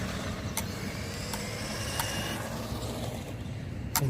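A GPTOYS McGruff S926 1:12 scale 4x4 RC truck runs at full throttle through hard turns and slides, giving a steady, dense whir of electric motor and tires with a few sharp scrapes or ticks.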